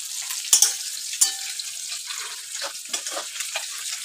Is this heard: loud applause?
no